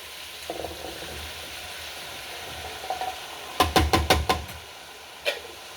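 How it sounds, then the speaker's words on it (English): Stirring taco soup with corn and pinto beans in a pot: a burst of five quick scraping, knocking strokes close by, with a single later stroke and faint clinks before, over a low steady hum. "let's stir that up some"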